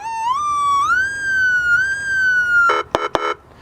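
A loud electronic police siren, mounted in the front of a vehicle and controlled from a box inside, wails in a rising and falling tone, then cuts into a few short, sharp yelping bursts at the end.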